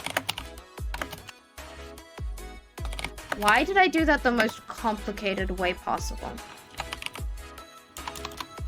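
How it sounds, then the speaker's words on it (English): Rapid clacking of a computer keyboard runs through the clip, close and steady under a person talking, with bursts of keystrokes between phrases. "We can hear you type every time you type."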